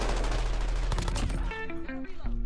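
Rapid automatic fire from an XRK M4 rifle in a Call of Duty game, loud and continuous for about a second and a half, then giving way to game tones and clatter.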